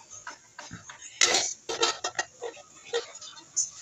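A metal wok (kawali) being set down and handled on a home stove in Manila, giving a cluster of clanks and scrapes followed by a few lighter, scattered clinks close by.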